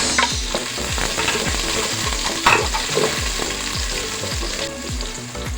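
Ginger then garlic sautéing in hot oil for a balbacua dish, a steady loud sizzle with rhythmic scraping strokes of a utensil against the pan throughout, no voices.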